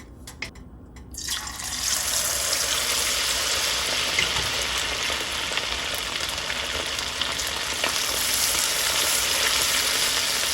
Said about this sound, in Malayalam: ഇത് ഡീപ്പ് ഫ്രൈ ചെയ്തെടുക്കണം കേട്ടോ.